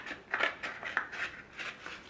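Scissors snip through material, cutting out a shape, in a string of six or seven quick, close crisp cuts with short gaps between them.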